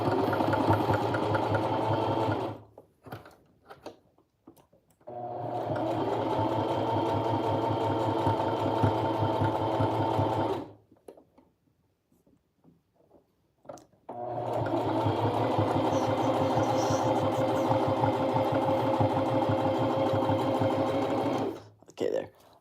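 Sewing machine stitching a plush toy, running in two long steady bursts with a pause between, loud and close with a rapid mechanical whir.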